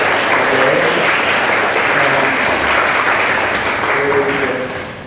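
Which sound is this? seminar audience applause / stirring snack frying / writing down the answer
seminar audience applause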